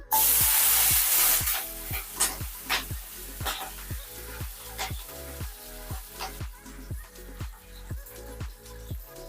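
Green chillies hitting hot oil in a pan, with a loud burst of sizzle at first that settles into quieter frying, under a run of rhythmic scraping or stirring strokes.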